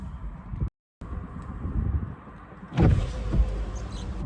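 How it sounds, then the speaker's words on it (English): A convertible car's power roof goes up: a low mechanical hum is followed by a louder electric motor whir partway through, heard close from inside the car with light wind noise. "let's put the roof up"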